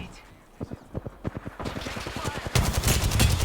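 An enemy player's gunfire in Apex Legends, a string of sharp rapid shots that grows denser and louder into heavy sustained firing, close and alone.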